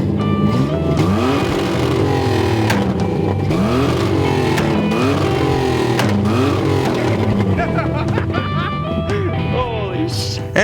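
A Pontiac Fiero engine runs loud and close, revving up and down in a steady series of rising and falling swells over rumbling background noise.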